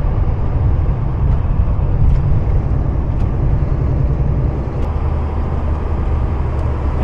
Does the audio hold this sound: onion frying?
no